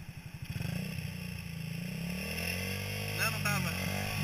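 Small motorcycle engine idling low, then the throttle opens and it revs up to pull away in first gear during a riding lesson on a beach road, with a steady close engine drone and a voice speaking over it.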